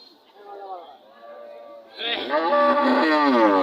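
A Red Sahiwal cow moos nearby at a cattle market, one long low call followed by a louder, stronger moo that swells and holds.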